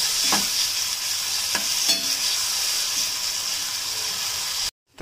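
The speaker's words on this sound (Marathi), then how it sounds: "तर आता आपण कांदा आणि लसूण टाकलेलं आहे तेलामध्ये" Onion and garlic fry in plenty of oil for dried bombil fish, a dense, even sizzle with a few soft spatula strokes, loud and close before cutting off abruptly at the end.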